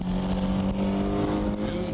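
A Toyota AE86 on M7 tires drifts under steady throttle, its engine note held and wavering slightly in a brief, fairly faint, continuous stretch heard from inside the car.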